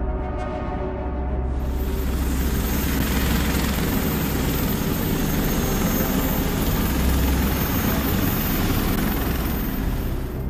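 A Sea King helicopter drones steadily overhead, its rotor chop and engine roar holding loud and constant throughout with no voices.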